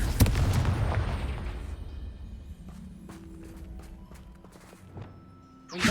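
A Confringo fire spell blasts off in Hogwarts Legacy, a loud booming burst right at the start that rumbles away, followed by quieter footsteps and small clanks, with another sharp hit at the very end.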